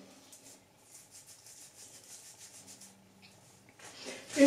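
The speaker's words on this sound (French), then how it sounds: "Donc, on commence toujours par le cuir chevelu. On frotte bien même." Herbal shampoo powder of sidr and shikakai being rubbed into the scalp, a soft continuous scrubbing and rustling with low background hum, faint throughout and growing louder near the end.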